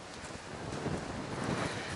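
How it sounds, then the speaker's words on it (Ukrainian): Strong wind gusting across an open farm field at wheat sowing time, a steady broadband roar with rising and falling buffets against the microphone, no voices. "Якийсь такий сильний вітер здійнявся."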